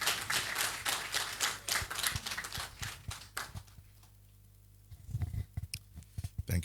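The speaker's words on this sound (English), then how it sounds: "Please give him a round of applause" Applause for a government minister, Dr. Rashid Popo, at a youth employment agency event: a burst of clapping from an audience that fades out midway, then a second, sparser round of claps.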